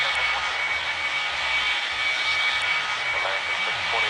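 Jet engines of a BAE146 airliner roar steadily during take-off in the Airline Commander video game, loud and continuous without a break.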